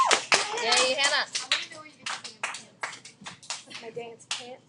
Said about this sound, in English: Everybody give Hannah a round of applause